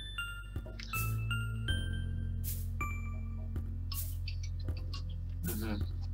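A phone in a video game chimes with bright electronic pings and tones, repeated several times over a steady low background hum.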